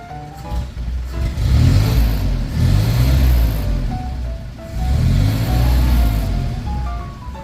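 The engine of a 1930 AJS 9 car runs loudly nearby, revving up and easing back in repeated swells.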